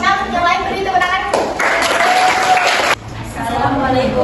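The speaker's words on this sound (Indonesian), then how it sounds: "Nanti kelompok 6 yang lain beri tepuk tangan." Classroom students applauding a presenting group, a burst of clapping that swells then cuts off abruptly, with voices talking before and after it.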